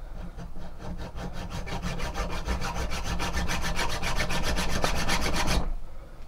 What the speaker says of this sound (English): file in a groove here